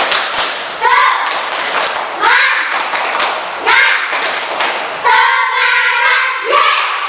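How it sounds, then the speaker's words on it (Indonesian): Children in a classroom chant and clap together in a rhythmic spirit clap led by their teacher, repeated bursts of claps and thumps with voices over them in a steady pattern. "mari kita melakukan tepuk semangat terlebih dahulu ya"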